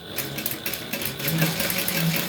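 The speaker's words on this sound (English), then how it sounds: "I can just sew it straight through without having to worry that it's going to be crooked" Sewing machine stitching a straight seam, its needle running in a fast, steady mechanical whir with a rhythmic low clatter, close and loud, with no talking.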